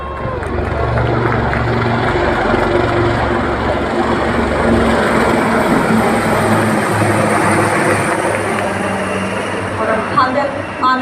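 An Mi-35 helicopter and four Apache helicopters fly in formation at a Delhi Republic Day parade rehearsal, producing a loud, steady rotor and engine roar that fills the whole stretch without letup.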